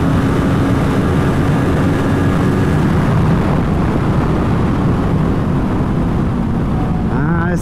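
Kawasaki Ninja 7 Hybrid 441 cc motorcycle engine revving hard at full throttle, a loud continuous drone with steady harmonics that hold throughout, shifting pitch only slightly near the end.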